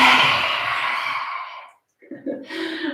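A slow, breathy exhale through the mouth during a breathing exercise, loud and close and fading out, followed after a short pause by a voice talking.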